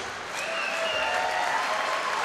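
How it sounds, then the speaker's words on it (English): Dense, steady applause and cheering from a cage-fighting crowd after a King of the Cage bout, loud and continuous with whistles cutting through. "Gentlemen, clap your hands for both of the fighters."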